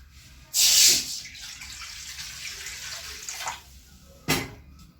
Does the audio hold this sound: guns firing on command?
no